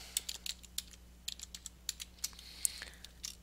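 Computer keyboard keys are tapped in quick irregular bursts, close and crisp, over a faint steady electrical hum with no talking.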